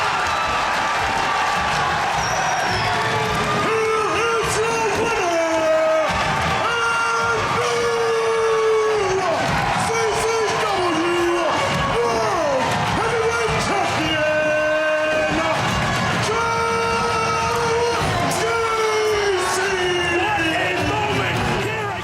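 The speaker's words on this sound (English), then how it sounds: "Crowd's really excited." A roller derby crowd cheers and yells loudly and continuously, with clapping, whistles and excited voices filling the arena, while people nearby shout over the din.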